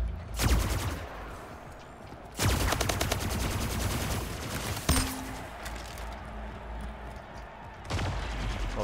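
Rapid automatic gunfire in the video game Splitgate comes in several loud, sustained bursts separated by brief lulls, the shots crackling close with a steady rattle and the final volley cut short.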